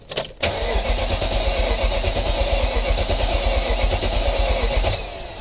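A manual-swapped BMW 540 in a drift wagon project cranks briefly and fires up for the first time, then settles into a loud, steady, throbbing idle close by before dropping off near the end.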